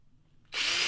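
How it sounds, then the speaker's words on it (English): Power drill boring holes into a wooden snowshoe frame: after a half-second of quiet room tone, the drill whirs up suddenly and runs loud and steady close by. "I'll just drill a few more."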